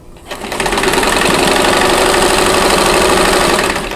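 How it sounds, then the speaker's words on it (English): A sewing machine stitches a quilt block seam in one continuous loud, steady whir that starts up quickly and runs nearly four seconds without pause, close and alone. "I'm going to go ahead and sew that seam"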